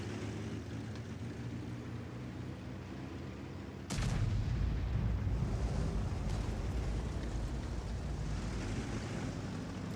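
Tank destroyer artillery firing in a tank video game, with a single heavy boom that shifts into a sustained loud rumble over constant background noise.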